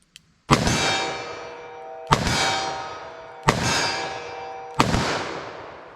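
A .44 Magnum revolver fired with PPU JHP ammunition at a 25-yard target: four loud, sharp gunshots spaced about a second and a half apart, each with a long ringing decay, and no talk between them.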